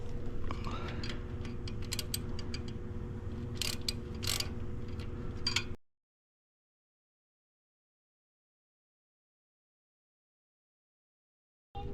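Ratchet clicking while tightening bolts during a 2006 Subaru Impreza WRX STI engine install, with dense mechanical ticking and metallic clatter over a steady low hum for about six seconds, then silence.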